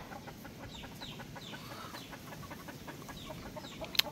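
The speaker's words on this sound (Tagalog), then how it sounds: "Oh, may manok dyan guys, oh." Chickens clucking softly in a steady murmur of farmyard noise, with brief chirps and one sharp click near the end.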